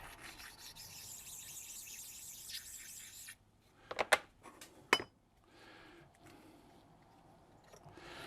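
A whetstone is rubbed back and forth on a precision ground flattening stone, giving a steady gritty scraping for about three seconds, followed by a few sharp clinks and light knocks, all at close range.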